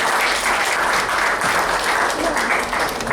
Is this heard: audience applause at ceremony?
yes